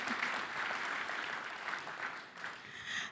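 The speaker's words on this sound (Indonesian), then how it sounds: "Tepuk tangan buat Kadin." An audience at a business organization's dialogue event gives a round of applause, a fairly faint, continuous patter of clapping that holds steady for a few seconds and tapers slightly before swelling again.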